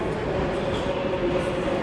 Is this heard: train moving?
yes